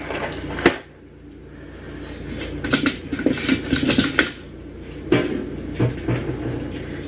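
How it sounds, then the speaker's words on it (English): Penne pasta stirred in a pot on a home stove, giving scattered close clinks and scrapes of a utensil against the pot, with a few sharper knocks between quieter rustling. "Give it a stir."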